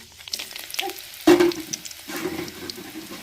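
Dried chillies dropped into hot oil for tempering, a sudden loud crackle and sizzle surging in the middle and then settling into a lighter, steady frying hiss.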